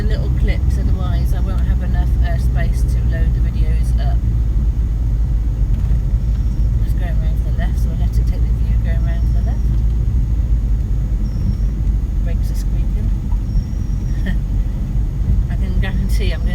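A van with a slipping clutch drives through hilly Lake District roads, its engine rumbling steadily and loud throughout, with road noise and occasional talk over it.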